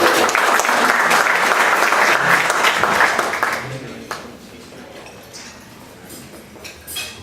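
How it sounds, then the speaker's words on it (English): A meeting audience claps for about four seconds, the applause fairly loud and thick before fading into scattered claps and quiet room noise. "applause."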